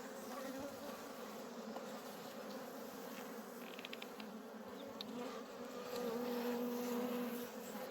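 Honey bees buzz around their hives during a spring inspection after winter, a dense, continuous insect drone heard close by and fairly quiet, with no talking.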